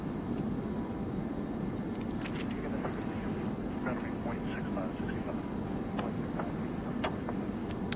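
An American A321 airliner climbs in the Prepar3D flight simulator, giving a steady, broad engine roar throughout with faint chirps and clicks layered on top.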